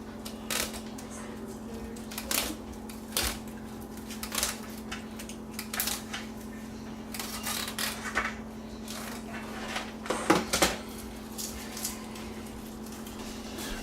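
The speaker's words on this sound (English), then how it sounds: "Just going to cut the meshing off." Scissors snip mesh netting off a turducken in a series of short, irregular clicks and crisp cuts over a steady low hum, close and fairly quiet, with no talk.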